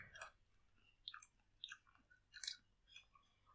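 A raw acorn being chewed close up, giving faint, crisp crunches and bites in irregular bursts against a quiet background with no talk.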